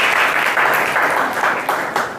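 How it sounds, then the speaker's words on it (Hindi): Seated audience at a motivational talk gives a burst of applause, steady dense clapping, fairly close and loud throughout. "एक बार इनके लिए जोरदार ताली।"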